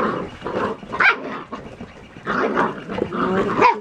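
Several standard poodle puppies yip and bark in short bursts on a deck, close by, with brief whimpering noises between the barks.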